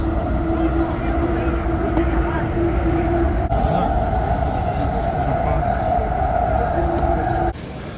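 Steady rumble and hum of the AirTrain airport rail shuttle heading toward Terminal 8, a continuous rolling drone with a tonal whine, with people talking over it most of the way.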